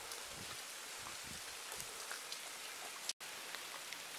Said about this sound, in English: Oh, it's absolutely chucking it down here.